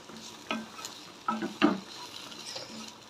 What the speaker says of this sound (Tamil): வாயு இல்லாமல் இருக்கிறதுக்காக நான் இந்த பூண்டை இதில் சேர்த்துருக்கேன்